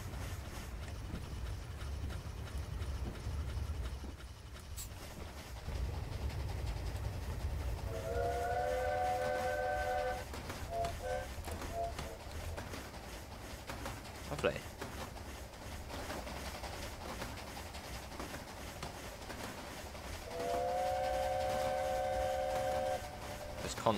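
Steam locomotive whistle in a narrow gauge railway video game, sounding in two sustained toots several seconds apart over a low rumbling background with people talking.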